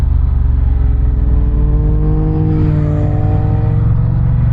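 A motorcycle riding onto a gravel road in Sweden, its engine a loud, close, steady rumble that shifts slightly in pitch partway through.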